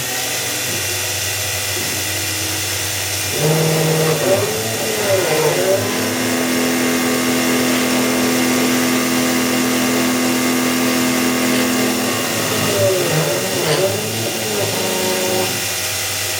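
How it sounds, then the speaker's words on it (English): CNC milling machine spindle whirring as a 7-degree taper end mill cuts the lock bar tang of an RWL34 steel knife blade, with a sustained tonal cutting whine from about three to fifteen seconds over steady machine noise. "Gonna cut the lock bar tang."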